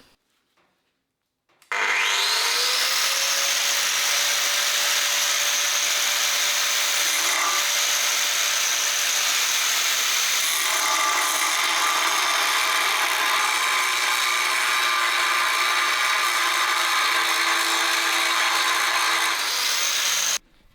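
An angle grinder cuts through the stubborn, rusty centre stand of a Honda CB250 motorcycle, a loud, close, continuous high-pitched grinding whine that spins up and holds steadily for most of the stretch before stopping abruptly.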